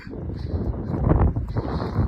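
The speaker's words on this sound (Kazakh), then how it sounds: "Жел деген бізде тоқтамайды." Steady cold wind on an open rural farmyard, a constant breathy rush buffeting the microphone with gusty swells and no voices over it.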